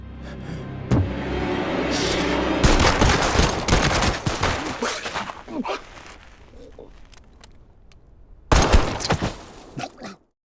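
A gunfight in an action film about secret agents taking on a crime syndicate, with a car involved: irregular shots and rattling bursts over rumbling movement, fading to quieter shuffling before a final loud burst, with voices mixed in.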